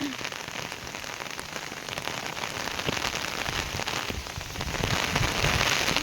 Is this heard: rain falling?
yes